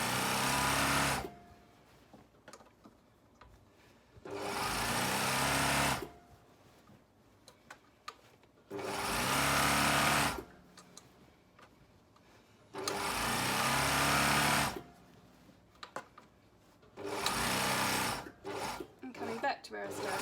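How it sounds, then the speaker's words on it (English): Sewing machine stitching around a stretched waistband in five loud, steady bursts of a few seconds each, separated by quiet pauses, with a final run breaking into short stops and starts. "So back tacking and sewing all the way around, so stretching it out, sewing, pausing, stretching and sewing."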